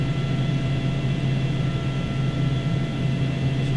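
A T-6A training aircraft's engine drones steadily in a flight simulator during a landing approach at Laughlin AFB. The hum is constant, even and unbroken, with no voices over it.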